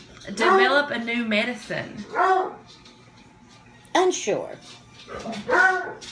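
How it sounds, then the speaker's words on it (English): Household dogs let out short yips and whimpers in the background while a person speaks up front during a conversation, the animal sounds brief and partly under the talking. "I'm so sorry about my dogs."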